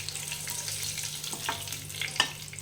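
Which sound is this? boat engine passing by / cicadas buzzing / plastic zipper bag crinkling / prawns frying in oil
prawns frying in oil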